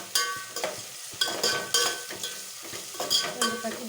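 Green chillies frying in oil in a pan for chicken biryani, a close sizzle broken by repeated scraping stirs of a spoon against the pot.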